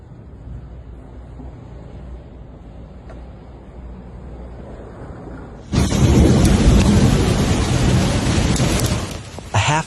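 Sudden heavy downpour with rumbling thunder during a late-August storm in coastal Italy, a quieter rainy hiss giving way to a loud, dense roar of rain and wind that fills the second half.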